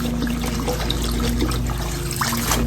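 Leafy greens swished and shaken in a sink of water, a steady close trickling and sloshing with a low hum beneath it.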